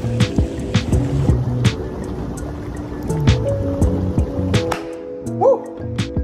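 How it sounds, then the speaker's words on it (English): Jacuzzi jets bubbling steadily with continuous churning water and close, loud turbulence, broken by intermittent splashes and a few brief tonal hums from the pump. "Jacuzzi action."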